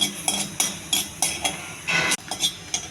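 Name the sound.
dry roasting millet vermicelli in a pan on the stove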